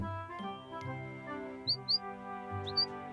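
Small cartoon bird chirping in two short pairs of high tweets, bright and close, over a soft tinkling musical backing.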